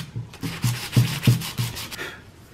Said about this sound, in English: I'm just taking my time, sitting here, sanding away